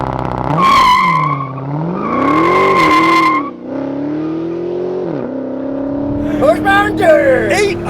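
A 2022 Dodge Challenger SRT Hellcat Widebody Redeye Jailbreak, with an 807-horsepower 6.2-liter supercharged V8, roars and revs hard in rising and falling sweeps. Squealing tires and excited voices join toward the end.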